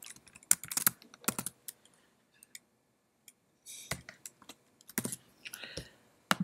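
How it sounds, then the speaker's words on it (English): A computer keyboard is typed on in irregular bursts of sharp, close key clicks with short pauses between them while a password is entered. "we're going to type a secure password in there"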